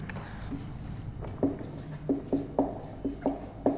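A teacher writes a word on a classroom board during a chemistry lesson on metals and nonmetals, making a series of short, distinct scratching strokes in an irregular rhythm, close and moderately loud, with no speech.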